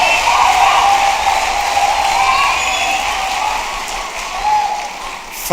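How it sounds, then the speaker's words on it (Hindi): Loud, sustained applause from a large audience at a poetry recital fills the whole stretch, dense clapping that swells slightly before tapering at the end. "एक बार जोरदार तालियां उठा दे हवा में।"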